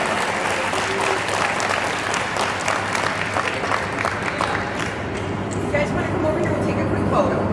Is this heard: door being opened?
no